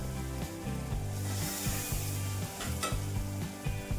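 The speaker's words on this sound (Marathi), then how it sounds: "कमी गॅसवरती मसाले आपल्याला पाच मिनटं छान असं परतून घ्यायचं" Spice masala for a Maharashtrian dal curry sautéing on a low flame, a soft close sizzle with occasional stirring scrapes, quiet and steady with no talk.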